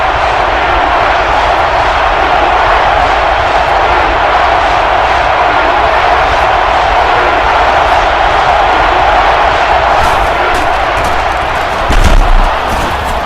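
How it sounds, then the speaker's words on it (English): Steady roaring stadium crowd noise from NCAA Football 12, a dense continuous wash of cheering that holds at a loud, even level throughout, with a brief thump near the end. "And this crowd is going crazy."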